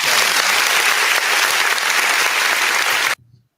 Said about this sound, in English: So your boy got that applause button tonight for you.